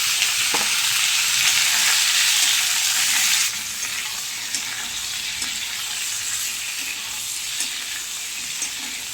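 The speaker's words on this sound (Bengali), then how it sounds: "চিকেনটা আমার ভাজা হয়ে গেছে" Chicken fries in a pan, a loud, close, continuous sizzle that softens a little partway through, with faint stirring clicks underneath and no talking.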